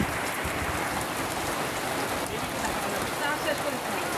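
Steady rain falls and patters on surfaces, a dense, even hiss that stays loud and unbroken throughout.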